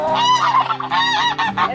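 A goose honks loudly and close by in a short run of nasal, strongly harmonic calls, two or three honks in quick succession with no other sound.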